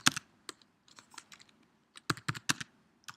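Close, quiet computer keyboard typing of a command in uneven bursts of clicky keystrokes, with a brief pause before a quicker flurry of taps.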